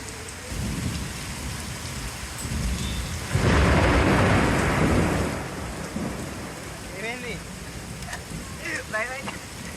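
Heavy rain pours steadily in Chevella, Moinabad and Shankarpally, Ranga Reddy district, Telangana, as a loud burst of thunder rumbles through, then fades, with a voice speaking briefly near the end.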